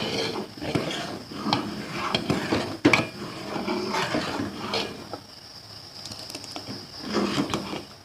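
Payesh, a rice pudding of basmati and khasa rice, is stirred in a pot with a metal spoon: repeated clinks and scrapes against the pot sides, close and irregular, with a sharper knock midway.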